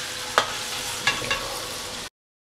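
Chillies fry in a pan for fried rice vermicelli (bihun goreng), giving a soft steady sizzle broken by a few sharp stirring scrapes before it cuts off abruptly.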